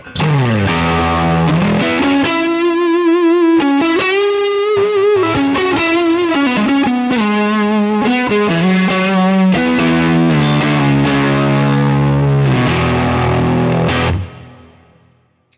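Distorted electric guitar through a Quad Cortex amp modeler plays a melodic phrase with bends and sustained notes, loud and processed with effects, ringing out and fading at the end.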